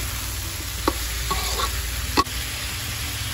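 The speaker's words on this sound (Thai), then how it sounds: "ผัดให้เข้ากันแล้วเดี๋ยวเราจะปิดกระทะทิ้งไว้ก่อนรอให้เขาสุก" Pork belly and mushrooms stir-fried in a pan give a steady close sizzle. A utensil scrapes and clacks against the pan a few times, and there is no talk.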